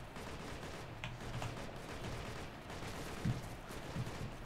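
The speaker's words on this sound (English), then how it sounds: "We're taking heavy fire here." Distant firefight in Operation Flashpoint: Red River, with faint scattered gunshots and muffled bursts of rifle fire crackling at a low level, a couple of sharper reports standing out near the end.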